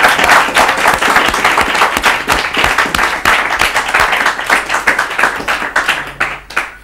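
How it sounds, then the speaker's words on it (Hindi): Applause from an audience at an Urdu quiz show, loud and close, with distinct individual claps punching through a dense crowd patter, gradually thinning out toward the end. "ताली बजाइए इनके लिए।"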